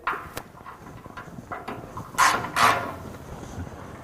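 Wrench turning bolts to remove the factory skid plate on a second-generation Nissan Frontier; close, sparse metallic ratcheting clicks and clanks in short bursts, with two louder rattles near the end.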